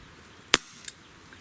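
A Gamo PR-776 air pistol fires a lead pellet once with a sharp crack, followed a moment later by a fainter metallic tick of the pellet striking its target, all in a quiet setting.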